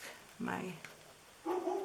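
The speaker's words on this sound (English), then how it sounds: "my dog is going to bark" A pet dog barks indoors while someone makes an Easter carrot treat box, giving two short, moderately loud bursts about a second apart with quiet room tone between.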